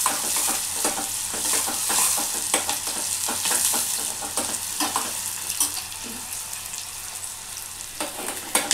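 Ingredients for Telangana-style pulla gandha pulusu fry until brown in a pan, with constant loud sizzling and frequent rapid scraping strokes of a stirring spoon, close up and with no voices.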